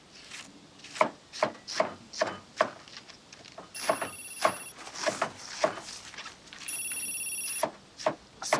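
A telephone rings with two sustained electronic rings amid a steady series of close knocking and rubbing sounds.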